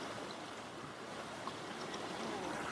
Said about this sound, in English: The water basically runs down from the lock and exits, and it creates this bubbling effect that flows across the canal.